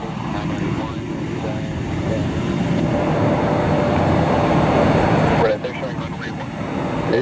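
Frontier airliner jet engines at an airport: a steady, loud broadband roar that holds for about five seconds, then drops away to a lower rumble, with voices talking over it.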